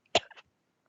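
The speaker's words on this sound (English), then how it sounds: "excuse me, coughing a little bit." A single short cough, sharp and close, followed by a brief throaty trailing sound, then silence.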